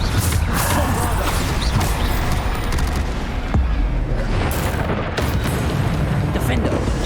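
Bombarda spell explosions in the video game Hogwarts Legacy, dense bursts and booms layered over constant combat noise with several sharp blasts through the stretch.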